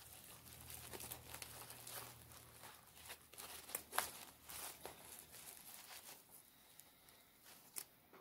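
Plastic wrap crinkles and crackles in bursts as it is handled and tied down over a Dollar Tree tomato grow kit, close and fairly quiet, with short sharp rustles and no talking.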